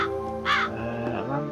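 A single loud, close crow caw rings out in the Midnight Mysteries hidden-object game, set over a steady droning musical background.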